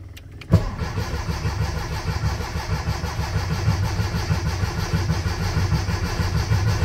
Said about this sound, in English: we will be cranking and cranking until we get oil pressure